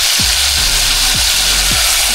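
Fish pieces sizzle loudly in a pan of reddened fried garlic for a spicy curry, a constant dense frying hiss with three short scraping or stirring strokes at regular intervals.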